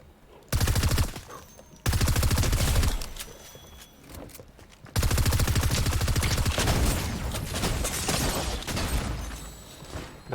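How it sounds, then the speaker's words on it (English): Rapid automatic gunfire sounds from the video game Fortnite in three loud, close bursts, the longest rattling on for several seconds, with quieter gaps between them. "So we accidentally shoot this bot here."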